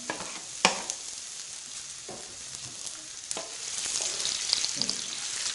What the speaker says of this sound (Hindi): अभी मैं इसके अंदर प्याज ऐड करूंगा